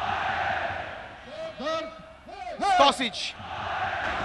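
Fenerbahçe supporters roaring and chanting in a packed Istanbul stadium during a 1995-96 UEFA Cup match against Real Betis, a broad distant crowd din with rising shouted chant swells, under a commentator's voice.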